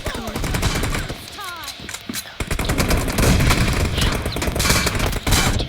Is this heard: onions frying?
no